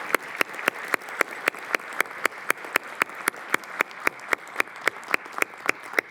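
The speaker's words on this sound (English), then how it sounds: "let's give our family and friends of our graduates a round of applause" Applause at a law school commencement ceremony, heard as crisp, evenly paced claps close by, a steady beat of about four per second with no talking.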